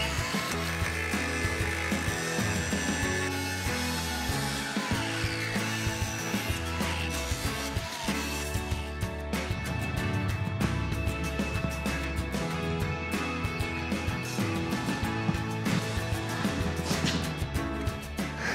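Power tool cutting through old fasteners on a Coleman pop-up camper storage box, a steady harsh grinding rasp running continuously and close up, loud throughout with no voices.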